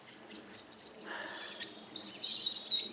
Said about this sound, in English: Can you listen to the birds?